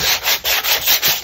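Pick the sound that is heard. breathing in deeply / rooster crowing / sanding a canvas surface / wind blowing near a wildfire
sanding a canvas surface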